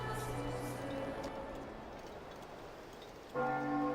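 A tolling bell rings twice in an online fantasy quest game, each strike leaving a long humming decay, with faint rain-like background noise between the strikes.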